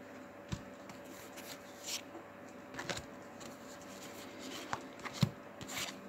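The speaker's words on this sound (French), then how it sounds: "Quand les cartes sont faites comme ça en général, elles sont très faciles à mélanger." Textured tarot cards are shuffled by hand, giving soft, sparse riffles and taps over a low steady hum, close and quiet, with no talk over it.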